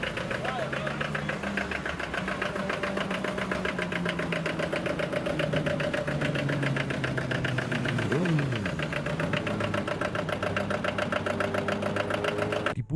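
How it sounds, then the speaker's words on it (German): An old tractor engine runs steadily at a gathering of vintage tractor and farm machinery enthusiasts, a continuous throbbing mechanical drone with fast pulsing beats and a brief pitch sweep, with voices faint in the background. "Wir versuchen, die alten Traktoren und Landmaschinen am Laufen zu halten."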